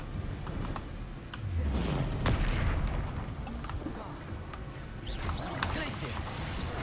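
A Confringo fire-blast spell bursts in the Hogwarts Legacy video game, one booming blast amid a busy stretch of layered combat effects, crackles and impacts that stay dense throughout.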